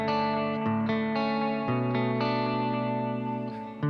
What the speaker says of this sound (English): You can hear that. Memory Man.